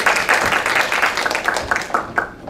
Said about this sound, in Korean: 박수로 맞으시면 감사하겠습니다